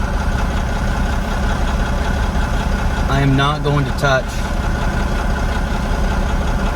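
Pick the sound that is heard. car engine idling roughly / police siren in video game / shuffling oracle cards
car engine idling roughly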